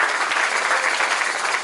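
A church congregation applauds in praise during a service, steady dense clapping that fills the space evenly from start to finish with no voices standing out.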